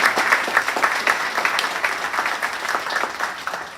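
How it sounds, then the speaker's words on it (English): Audience applause at an AWS Web3 and crypto day event at the Loft: steady, dense clapping from a room full of attendees, fairly close and even in loudness throughout, with no voices over it. "round of applause for Shai for that"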